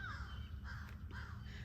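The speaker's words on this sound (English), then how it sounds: "Why are those crows so loud?" Crows caw loudly in a garden, three harsh calls spaced about half a second apart over steady outdoor background noise.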